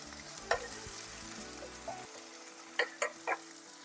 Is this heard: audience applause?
no